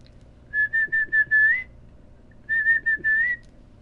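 Two bursts of sharp, high-pitched human whistling calling a dog in the video game Ghost Recon Breakpoint, each a quick run of short repeated notes ending in a longer tone, clear and close.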